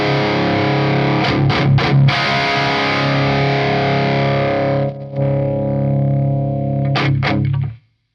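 An electric guitar runs through a Friedman Little Sister amp with thick distortion, holding sustained chords with a few strummed hits, a brief gap near the middle, then ringing out before cutting to silence.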